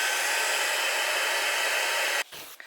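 A hair dryer drying distress ink on paper blows with a loud, steady, close whoosh for over two seconds, then abruptly drops and sputters briefly as it is moved or switched down.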